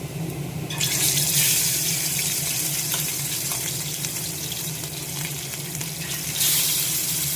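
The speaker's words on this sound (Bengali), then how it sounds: "মাছগুলো ভেজে নিই, তেলটা গরম হয়ে গেছে" Fish frying in hot oil in a pan gives a loud, continuous hissing sizzle that surges near the start and again near the end.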